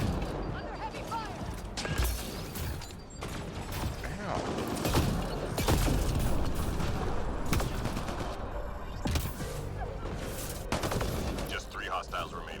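Heavy gunfire rattles through a Mass Effect Andromeda multiplayer firefight, dense bursts of automatic shots and impacts continuing almost without pause, mixed with voices speaking over the combat.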